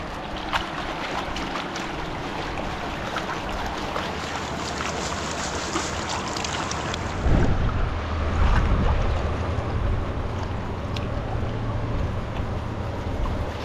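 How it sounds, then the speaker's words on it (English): Fast, heavy water rushing past at a rocky river spot used for gold panning, a loud continuous roar close by with a deeper surge partway through. "That sure is a lot of water moving by me in one heck of a hurry."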